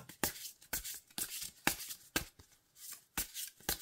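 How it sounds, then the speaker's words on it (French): Oracle cards are shuffled by hand, close by and fairly soft, in a quick series of riffling bursts spaced at a steady rhythm. "je vais battre les cartes"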